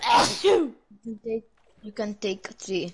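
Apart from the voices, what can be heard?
sneeze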